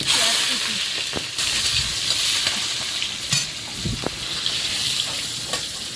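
Nigella seeds sizzle steadily in hot oil in a pan, a dense, close frying hiss that runs throughout with a few brief scrapes and taps of stirring, no voices.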